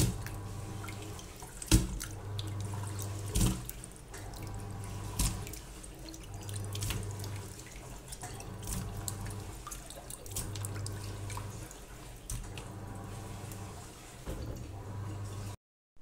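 Chicken feet are washed under a running tap in a sink, with a continuous water flow, splashing, and intermittent knocks and handling sounds.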